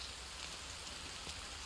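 Rain in the survival game The Forest, a faint, steady hiss of falling drops with no voices.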